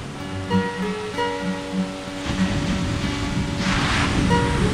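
Sea waves on Dahican Beach in Davao Oriental wash and hiss steadily as a broad surf rush, mixed with wind noise and faint background tones, swelling slightly toward the end.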